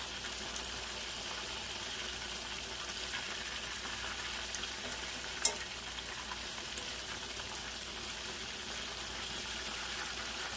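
Chicken pieces, including necks, backs and liver, frying in a pan, with a steady, faint continuous sizzle and a single brief louder crackle partway through.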